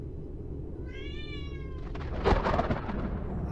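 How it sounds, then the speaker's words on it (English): A cat lets out a drawn-out, wavering meow, followed by a low rumble of thunder with a sharp crack. "That's a cat sound."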